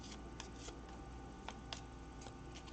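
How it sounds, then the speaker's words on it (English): Tarot key cards being shuffled by hand, a steady papery riffle with a few sharper snaps and flicks, close and fairly quiet, no talking over it. "Give them a little shuffle"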